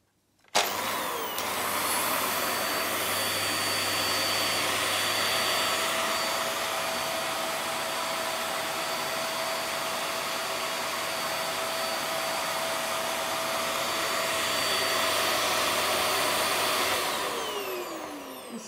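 A VAX Air Stretch Pet Max upright vacuum cleaner switched on and running, a loud steady whirring motor roar with a faint high whine that holds constant for the whole stretch before trailing off.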